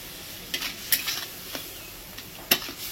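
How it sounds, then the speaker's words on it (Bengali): Fish head fry being stirred in a pan over a soft background sizzle, with a few scattered scrapes and clinks of a utensil against the metal, close and unaccompanied by voices. "এবার এটাকে দিয়ে ভালো করে নাড়াবো"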